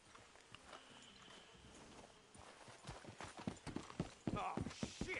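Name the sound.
horses clip-clopping, from video game Red Dead Redemption 2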